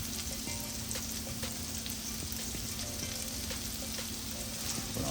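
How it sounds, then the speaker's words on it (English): Red onions and red pepper sautéing in a pan: a dense, steady sizzle throughout with a few faint stirring taps, close and continuous. "we're just going to go ahead and saute those"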